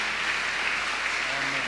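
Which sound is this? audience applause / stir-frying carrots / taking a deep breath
audience applause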